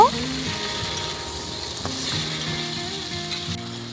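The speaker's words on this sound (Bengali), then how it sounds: "এবার সব কিছু খুব ভালো করে নেড়ে নিয়ে দুই মিনিট মতো জাল করে নেব" Small river fish with potato and eggplant sizzle in a pan as they are stir-fried, a steady close frying hiss with occasional scraping stirs, while someone talks over it.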